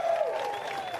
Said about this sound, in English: One more time, a round of applause for second place.